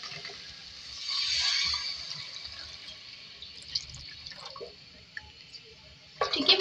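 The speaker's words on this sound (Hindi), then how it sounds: "अच्छी तरीके से करने के बाद पानी डाल दिया" Water is poured into cooking masala in a pan for Mughlai fish curry, a soft hissing pour followed by faint drips and small splashes in a quiet room.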